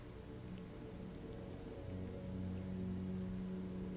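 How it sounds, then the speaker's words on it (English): Steady rain falls on the city of Revachol in the video game Disco Elysium, an even wash of patter with drips from eaves into flooded gutters, continuous and moderately close with no voices. "rain falls on the great city of Revachol. Rain drips from the eaves and floods the gutters,"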